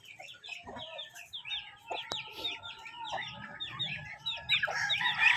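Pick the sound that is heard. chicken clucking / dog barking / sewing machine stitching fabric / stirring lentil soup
chicken clucking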